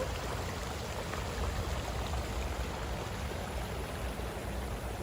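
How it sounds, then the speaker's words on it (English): A small stream of underground water flowing from a rock trickles and burbles steadily, a soft continuous wash of flowing sound with no voices. "The little stream and the sound of water makes us even a little more chilly"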